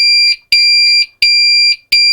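A Pyronix Enforcer alarm panel sounds loud, piercing tones in a steady on-off pattern, three long bursts separated by brief gaps, close and alone.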